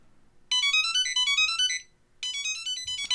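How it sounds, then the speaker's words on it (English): A Samsung Galaxy SmartTag rings to be located, giving a loud, bright electronic melody of rapid chiming tones that plays for over a second, pauses briefly, then starts again. "this is to make the little tag ring so you can find it a little easier"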